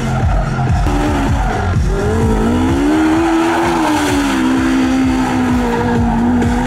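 Car with Terry Grant at the wheel spinning a full 360-degree turn at a truck racing event, a loud continuous tire squeal with rising and falling engine revving, close and dominant throughout.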